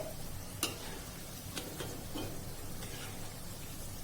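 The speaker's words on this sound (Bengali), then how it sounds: "এবারে মা কচুরিগুলো একবার করে উল্টে দিচ্ছে।" Kachoris deep-frying in a kadai of oil as they are turned: a faint, steady sizzle with a few soft clicks and taps, with no voices.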